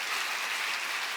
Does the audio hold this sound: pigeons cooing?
no